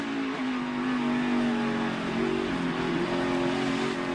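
A race car on the Bristol dirt track in the Food City Dirt Race, its engine droning loudly and steadily under throttle, a continuous close roar with slight shifts in pitch.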